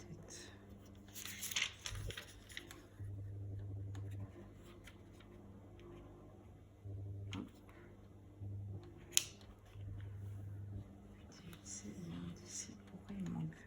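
Scissors snip through the tab of a paper wallet envelope in a few short cuts, close and fairly quiet, with talking over and between the snips and a steady low hum underneath.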